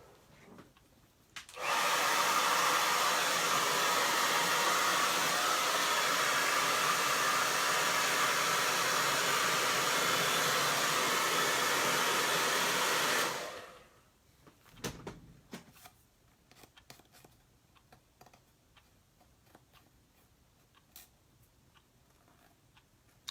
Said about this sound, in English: I am going to go ahead and dry that eye because I don't want that black getting in the white.